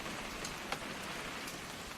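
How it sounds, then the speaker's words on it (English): Rain in the video game What Remains of Edith Finch, a steady soft patter of falling drops on surfaces, faint and continuous, with a few brighter drip ticks and no voices. "It's gonna rain the whole weekend,"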